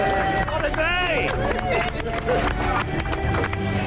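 Passengers aboard a whale-watching boat clap and cheer amid excited chatter, with a busy, sustained din of hands and voices and a whistle-like call rising above the crowd.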